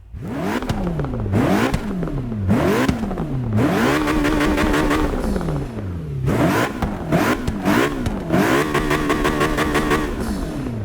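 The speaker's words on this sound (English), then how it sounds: "the twin turbos do take up a lot of that engine sound" A loud twin-turbo McLaren P1 engine in Forza Motorsport 6 revs hard again and again, pitch climbing through each gear with sharp shifts between pulls, no voices.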